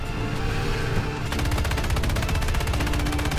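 Sustained rapid machine-gun fire from a vehicle-mounted gun in the War Thunder tank game, set in a desert; the rhythm tightens into a dense, even burst after the first second and stays loud throughout.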